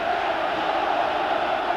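A huge seated capacity crowd at Ibrox Stadium, under cover at a football match, makes a steady, dense roar of murmuring voices that holds level throughout without distinct cheers.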